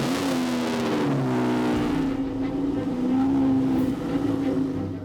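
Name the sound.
Lamborghini car driving onto a truck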